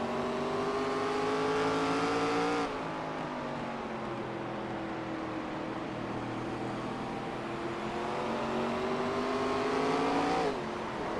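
A race car engine in a racing video game, heard onboard at the 859 Studios 150 at Five Flags Speedway, drones loud and steady with rising and falling revs and two sharp gear-shift breaks.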